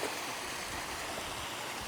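Rushing river water flows continuously in a forest near Lipa City, Batangas, a dense steady wash with no voices.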